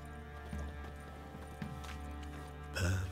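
Horse in a stable in The Witcher 3, hooves clopping softly and shifting in a few scattered steps over ambient game background, with a brief louder rustle or snort near the end.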